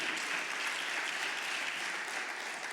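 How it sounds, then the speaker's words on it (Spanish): A church congregation breaks into applause, a dense, even burst of clapping heard at a steady level for a few seconds without talk. "Denle un aplauso a la hermana, tiene tataranietos."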